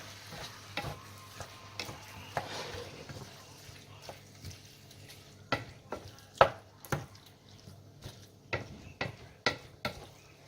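Toppings for a gluten-free potato lasagna being mixed in a bowl, with soft scraping and irregular clacks of a utensil, close but fairly quiet, no voices.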